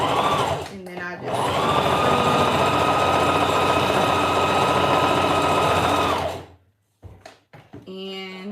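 A sewing machine stitching a track runs in one loud, steady, high-pitched whirring burst of about five seconds, close up, then stops, followed by faint handling sounds and a voice speaking.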